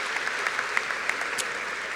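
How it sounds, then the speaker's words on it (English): Crowd applause at a Norwood High School graduation ceremony, a dense steady patter of many hands clapping from a distance, with no talking. "please give another round of applause for all of our proud Norwood High School alumni"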